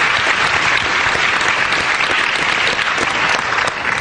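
Sustained audience applause at a 2009 debate on whether the Christian god exists, dense and steady clapping from a large crowd filling the hall for the whole stretch, loud and continuous without pause.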